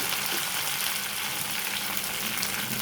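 Curry leaves, chopped onions and green chillies fry in hot oil in a pan for semiya upma, giving a loud, dense, continuous sizzle with no voices.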